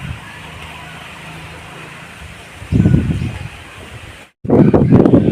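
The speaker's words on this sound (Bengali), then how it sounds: "বাতাস, এই বাতাসটারই প্রয়োজন ছিল।" Wind gusts ahead of rain after a hot spell, a low rushing roar that buffets the microphone in strong bursts over a quieter steady background.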